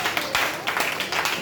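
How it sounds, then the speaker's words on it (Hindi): An audience applauding a man named Satpal at a product information talk: a short, dense burst of many hands clapping together at moderate loudness. "सतपाल जी के लिए एक बार जोड़ा तालियां।"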